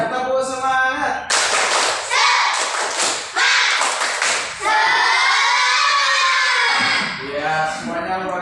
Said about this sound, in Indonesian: Kalau semangat kita tepuk semangat dulu semuanya.